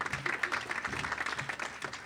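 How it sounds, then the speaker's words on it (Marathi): Audience at a Marathi stage event applauding, a dense, moderately distant wash of clapping hands throughout. "त्या सगळ्या महिला वर्गासाठी एकदा जोरदार टाळ्या होऊनच जाऊ द्या"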